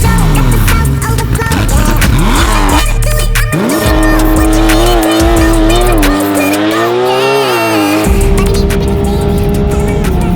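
Porsche 911 992 GT3 engine and exhaust while driving hard, loud and close, with rising and falling revs through repeated gear changes and sharp pitch sweeps, a brief lift around the third second.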